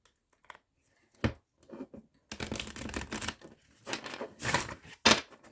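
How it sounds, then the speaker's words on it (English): A deck of tarot cards is shuffled in soft, papery bursts, with a few light flicks first and then a longer run of riffling and crinkling. The sound is close and fairly quiet, with no talking. "And one more good shuffle."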